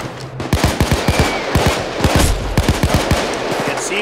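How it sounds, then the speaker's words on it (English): Rapid bursts of police gunfire in the Payday 2 heist game, loud, close, repeated volleys in uneven rhythm with faint talk underneath. "They're shooting me."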